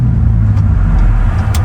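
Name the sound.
Maserati sports car engine driving in sports mode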